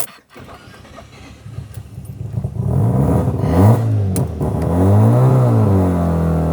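An abandoned JDM Mazda RX-7 being rebuilt revs loudly while driving. The engine note climbs and swells through repeated throttle rises, close and prominent, with no talking over it.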